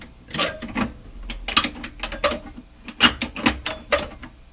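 Rough mechanical grinding and clicking from the band change gears of an SP-600 communications receiver turning in uneven bursts, close and fairly loud, with no talking.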